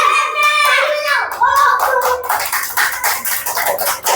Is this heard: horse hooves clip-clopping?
no